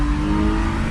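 A BMW E46 325 engine held on throttle during a drift, a loud steady engine drone heard close from inside the car for a brief moment, with no talking.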